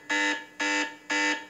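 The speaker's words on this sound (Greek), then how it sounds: "ακούμε ένα ηχητικό συναγερμό" A Blackview BV9300 rugged phone sounding its alarm bell: three loud, evenly spaced electronic buzzing bursts, each about a quarter second long, close and alone.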